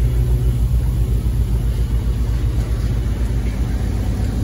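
A Lamborghini Huracan passes on a road course, a loud, steady engine rumble and roar sustained throughout with broad wind-like noise and no talk.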